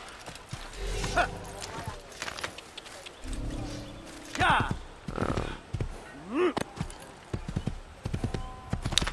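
Rhythmic hoof clip-clops from a horse in Assassin's Creed on Xbox 360, mixed with animal calls and game effects, moderately loud and intermittent.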